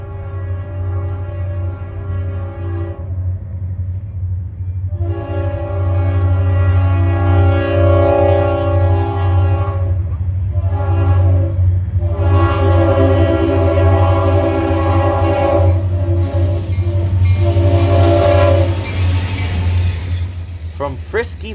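Freight trains rumble past in a busy rail corridor near Austell, Georgia, between the Inman and Whitaker yards. Several loud, sustained horn blasts sound over a steady low rumble of rolling cars, with a few short breaks between blasts.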